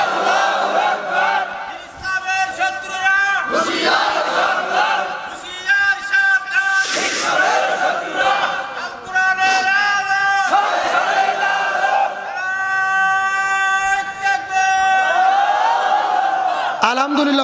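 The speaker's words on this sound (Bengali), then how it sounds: "এ মাঝখান থেকে একজন স্লোগান দেন তো দেখি।" A crowd at a Bangladeshi religious gathering shouts a slogan in unison: loud, ragged bursts of massed voices that rise and fall in repeated waves.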